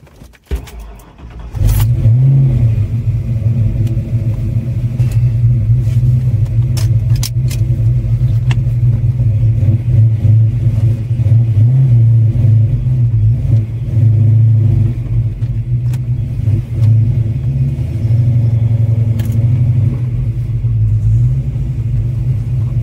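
A Fox Body Mustang with a 358 engine, a big cam and Pro-M EFI drives along, its deep, lumpy exhaust rumble droning steadily and loudly close by, with no talk over it.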